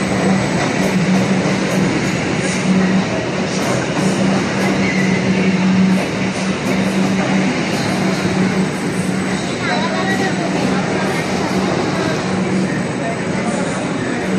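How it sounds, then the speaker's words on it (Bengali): An underground Kolkata metro train runs with a loud, continuous rumble and a steady low hum. Faint voices and small clicks sit on top of the noise throughout. "পাতাল ট্রেন।"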